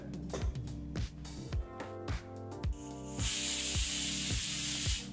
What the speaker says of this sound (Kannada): ಈಗ ಇಲ್ಲಿ ಕುಕ್ಕರ್ ಒಂದು ವಿಸಲ್ ಬಂದಾಯಿತು